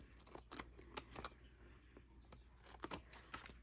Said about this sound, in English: take scissors, cut this little extra edge off here